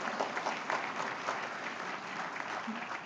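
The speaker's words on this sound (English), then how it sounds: "we'll better let you have an applause" Audience applause fills a room at a chamber of commerce annual awards banquet in Fairfield, Iowa: a dense, even wash of many hands clapping that holds steady throughout at a moderate, slightly distant level.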